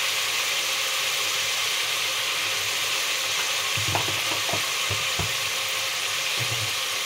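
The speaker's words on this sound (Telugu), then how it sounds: "ఇప్పుడు కొంచెం కలపాలండి" Drumstick and brinjal curry with turmeric and chili powder is stirred in a pan, a steady close sizzle with a few clanking scrapes of the spoon in the middle and again near the end, no talking.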